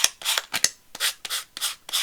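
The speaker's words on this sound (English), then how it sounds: "So what I'm going to do now is take my sanding block" Close, rhythmic scuffing of a sanding block rubbing back and forth along the edges of a paper journal, about eight quick strokes with brief pauses between.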